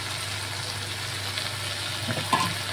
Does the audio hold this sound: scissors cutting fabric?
no